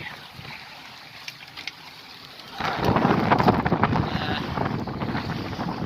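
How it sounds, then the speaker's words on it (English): Wind gusts around a Hurley 22 sailboat at sea in a large swell, with gusts near 18 knots. A softer rush at first swells into loud, buffeting wind and water noise about halfway through, then keeps roaring. "gusting 18 knots at present, so going along quite nicely, quite well balanced"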